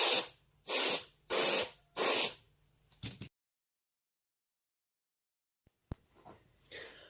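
AS-186 airbrush spraying base coat onto miniatures, four evenly spaced close bursts of hissing spray, then shorter faint puffs, a long silence, and a few quiet clicks and handling sounds.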